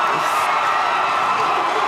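High-school basketball crowd in a gym cheering steadily for a player at the free-throw line, a dense, continuous roar of many voices at moderate loudness with no breaks.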